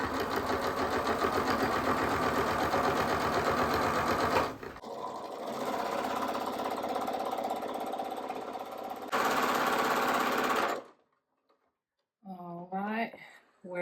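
A sewing machine with its tension loosened fully to 9 and threaded with thick thread stitches close to the edge of a men's dress shirt, running loud and steady in several long bursts separated by short pauses, with a voice speaking briefly at the end.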